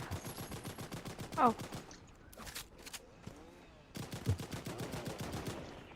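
Rapid automatic gunfire in the video game Fortnite, bursts of loud repeated shots in two main runs separated by a short lull, with a player's voice talking over the action.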